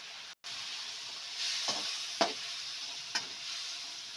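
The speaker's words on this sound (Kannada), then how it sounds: "ನೋಡಿ ಈ ಥರ ಒಂದ್ಸಲ ಫ್ರೈ ಮಾಡ್ಕೊಬೇಕು" Spices with coriander powder, turmeric and garam masala fry in a pan for vangibath, a soft steady sizzle broken by a few sharp stirring scrapes, close by and without talk.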